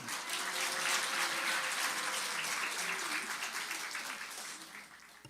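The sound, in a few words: church congregation applause welcoming pastor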